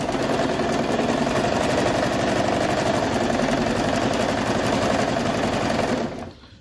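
A Singer sewing machine stitching material, a loud close rapid mechanical whir running steadily for several seconds before cutting off abruptly at the end.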